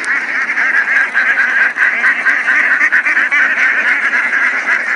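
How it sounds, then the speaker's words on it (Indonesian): A large flock of ducks crammed into a container in a village in Klaten quacks continuously, a dense, loud, overlapping chorus of honking calls filling the whole stretch at close range. "Ini akan dibuatkan jalan untuk melewati pasukan bebek."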